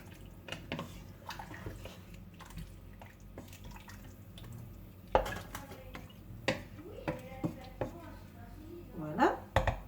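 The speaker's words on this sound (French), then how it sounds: "On remélange le tout." A spoon stirs pumpkin soup made from home-grown pumpkin and seasoned with nutmeg in a cooking pot, giving soft scrapes and occasional clinks against the pot while someone talks throughout.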